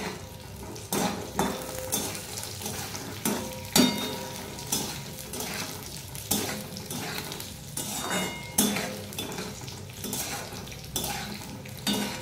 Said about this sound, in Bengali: আমি কিশমিশ আর কাজু বাদামটাকে একটু ভেজে নেব